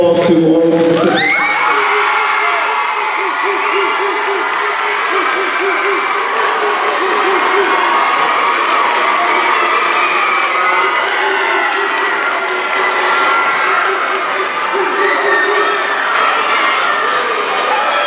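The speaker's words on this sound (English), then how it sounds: "can we just give a final applause to all of the recipients?" A large ceremony audience bursts into loud applause mixed with cheering and whoops for honored recipients, sustained and crowded, with scattered shouting voices woven through the clapping.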